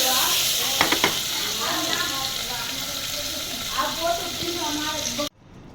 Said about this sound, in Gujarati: જો આપણે આ કંટોલા વઘારી નાખ્યા છે.